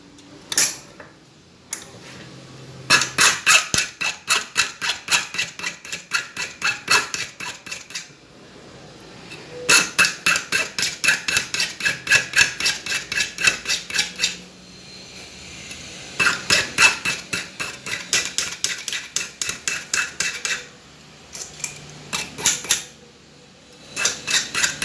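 A metal key blank for a small padlock is filed by hand to shape its tip, heard as long runs of quick rhythmic scraping strokes broken by short pauses, close and clear.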